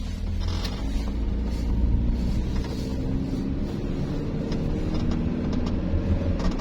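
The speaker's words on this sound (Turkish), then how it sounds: "Evet arkadaşlar şimdi de sürüş testindeyiz arabanın." A Hyundai Atos with an automatic gearbox climbs a ramp, its small engine giving a steady, loud low drone and rumble from inside the cabin, continuous throughout with no talk.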